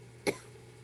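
A single short cough during a virtual meeting call, one brief burst over a quiet background hum.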